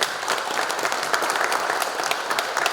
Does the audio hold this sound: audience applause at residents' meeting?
yes